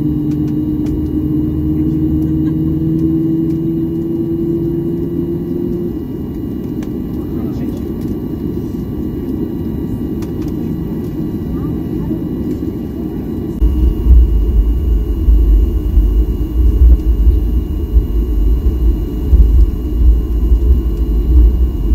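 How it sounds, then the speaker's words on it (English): Steady jet rumble from a CFM LEAP-1B engine spooling up on a Boeing 737 MAX 8, heard from inside the cabin, a low droning roar that deepens and grows heavier partway through. "let you enjoy the sound of the CFM LEAP-1B engine starting up"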